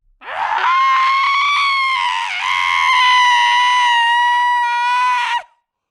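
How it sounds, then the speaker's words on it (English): A long, loud, high-pitched scream held for about five seconds with a wavering pitch near the middle, close and alone, with no talk around it. "she heard screaming sounds coming from the near woods"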